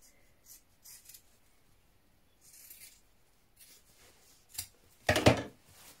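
Fabric is trimmed with scissors while jeans are being sewn, heard as faint, scattered snips and rustles that end in a louder, closer crisp cut. There is no speech and almost no background noise.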